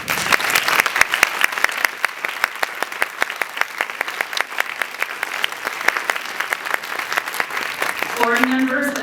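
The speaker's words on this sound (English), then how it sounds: "please give them a round of applause" An audience at an awards event claps for its supporters, dense steady applause with crisp individual claps throughout, fairly loud and close, and a voice briefly emerging near the end.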